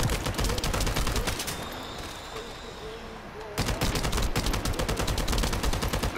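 A rapid-fire gun in The First Descendant, dense automatic bursts with a brief pause midway before firing resumes, loud and close.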